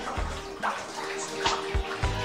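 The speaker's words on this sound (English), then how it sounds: "and add it to the vat with water" Paper pulp and water slosh and splash into a papermaking vat, with a few heavier pours and plops over a steady running-water wash.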